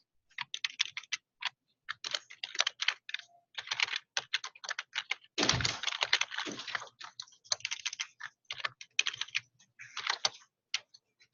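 Rapid keystrokes on a computer keyboard come in quick irregular bursts with short pauses between them, close and clear, with one heavier thump near the middle.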